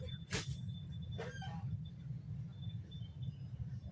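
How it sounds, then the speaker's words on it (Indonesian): Ducks quack a few times at a distance, two brief honking calls over a steady low rumble, as their owner leads them to a pen. "bisa dengar suara bebek yang di lead oleh pemiliknya ke kandangnya"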